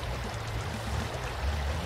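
A Mitsubishi Pajero with a snorkel fording a river in BeamNG Drive, a continuous rushing and gurgling water wash with low rumble throughout, no voices.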